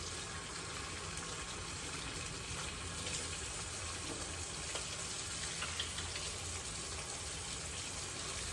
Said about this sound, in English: I'm gonna wash my hands because I got that greasy bacon on me again